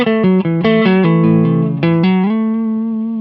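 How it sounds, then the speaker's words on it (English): Clean electric guitar run through a compressor pedal, a series of sustained plucked notes and chords with even, squeezed dynamics, ending on a long ringing note that holds steady as it fades slowly. "it turns up your guitar when you're quiet and it turns it down when you're loud, essentially compressing your signal"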